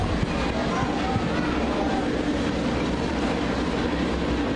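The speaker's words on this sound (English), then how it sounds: "every time I hear these trains going by when we're out here" A train passing close to an outdoor football field during a game: continuous rumbling roar with faint rhythmic wheel clatter, steady and fairly loud throughout.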